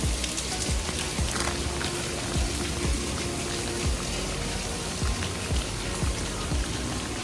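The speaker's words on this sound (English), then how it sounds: "It's barely the morning and it's already raining." Morning rain falling steadily outdoors, close droplets pattering and splashing on a nearby surface in a dense, continuous hiss, with occasional heavier drips standing out; no voices.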